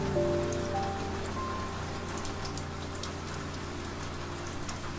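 Steady rain pours down over farm fields, a dense, even hiss of drops that holds at the same loudness for the whole stretch, with faint tonal music lines underneath and no voices.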